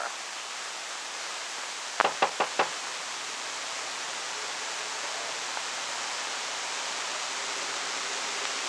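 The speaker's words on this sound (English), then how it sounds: "I kept knocking and knocking and knocking" Four quick knocks on a door in a fast burst, crisp and fairly close, then steady hiss with nothing else.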